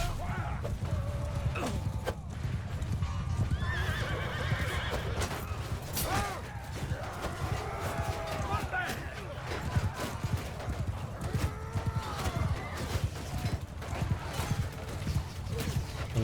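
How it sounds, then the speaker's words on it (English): Horses neigh and whinny repeatedly over a dense, continuous drumming of hooves as a large mounted charge sweeps across a Mount & Blade II: Bannerlord battlefield, with clashing and battle din mixed throughout. "Another 97 horses coming"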